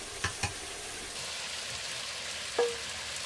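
Chicken curry with skin-on chicken simmers and fries in a pan as fried potatoes are added, a soft continuous sizzle with a few clinks of a utensil against the pan, close and quiet.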